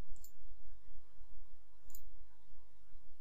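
Two faint, brief mouse clicks, spaced about two seconds apart, sound over a quiet room hum while using job-costing software on a computer.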